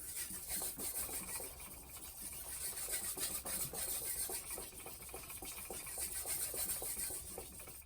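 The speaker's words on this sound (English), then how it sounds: "start refining your burr on the medium grip stone" A knife blade rubs repeatedly across a medium-grit sharpening stone to refine the burr, producing a steady, close raspy scraping with a continuous even texture and no talking.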